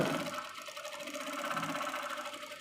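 A sewing machine runs steadily, stitching elastic into a salwar waistband with a continuous close mechanical whir and fast rhythmic needle chatter that never pauses.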